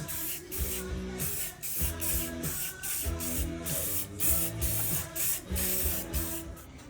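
Bursts of aerosol spray from a can of Rust-Oleum Sunrise Red paint used on a Dana 60 axle part, about seven close hissing bursts with a rattling pulse under each and short gaps between them.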